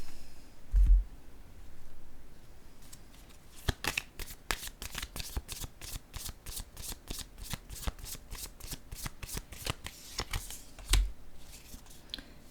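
Tarot cards riffled and handled in a steady run of crisp, rapid flicks, with a few soft thumps as cards are set down on a surface, close and fairly quiet, no talking.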